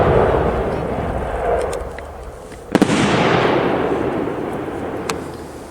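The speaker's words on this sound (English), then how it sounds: "We're going to showcase purple falling leaves." Purple falling-leaves aerial firework shells from a 1.3 shell demo burst outdoors, with a sharp double crack near the middle followed by a long crackling rumble and a later pop, over steady background noise.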